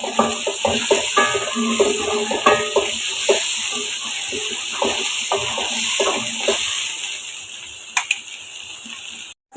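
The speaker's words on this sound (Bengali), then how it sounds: "তো এগুলোকে একটু আমি হালকা ভাজতে থাকি একটু পিঙ্কের কালার আসা পর্যন্ত অপেক্ষা করি খুব বেশি ভাজবো না" Shrimp with green chilies lightly frying in a pan for an okra and shrimp dish, a soft sizzle broken by frequent clinks and scrapes of a spatula, then quieter near the end with a sharp knock.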